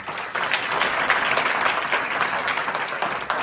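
A church congregation applauds during a sermon, a dense, steady wash of clapping from many hands that holds throughout.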